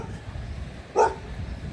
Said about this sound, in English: now he wants to bark at me